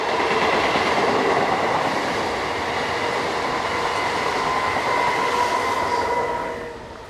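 Regional push-pull passenger train hauled by a Class 464 electric locomotive, its wheels rumbling and clattering steadily at close range before the noise fades slightly toward the end.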